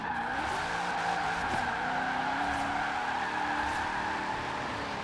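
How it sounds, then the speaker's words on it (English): Corvette ZR1 drifting in Forza Horizon 4, rear tires squealing steadily as the wheels spin, over a loud continuous high-revving engine tone throughout. "I'm still spinning my rear wheels."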